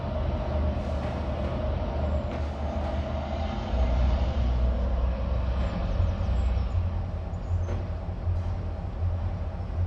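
A large locomotive speeds up along the rails, a steady low rumble and rolling clatter of wheels on track that holds loud and continuous throughout with no voices.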